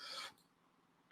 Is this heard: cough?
yes